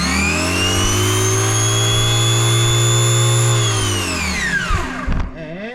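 An RC drag car on a dyno, powered by a 2S LiPo drag battery with a fixed gear ratio and 100 mm wheel, gives a loud, sustained high-pitched motor whine that climbs and holds, then winds down near the end.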